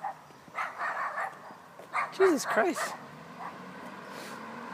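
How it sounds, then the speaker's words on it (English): A dog gives several loud barks and yips close by, clustered in a short run, while a person speaks briefly over the noise. "Is that dog coming for me?"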